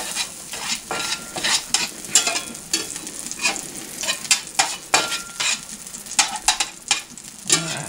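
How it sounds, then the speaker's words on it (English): Butter sizzles and crackles in a hot pan, a steady broadband hiss punctuated by bursts of spattering pops, fairly close and continuous throughout. "That butter kind of sizzles but doesn't burn."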